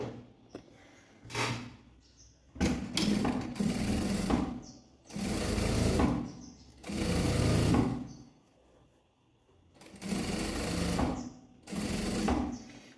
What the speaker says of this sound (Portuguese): E vou passar uma costura, vou costurar na beiradinha